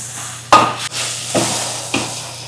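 Beef seasoned with black pepper is stirred in a hot pan, with a few loud scraping strokes of the utensil over a steady close sizzle and no voices.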